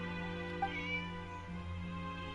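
A cat meows once in Genshin Impact, a short, high, faint call rising briefly over steady in-game music.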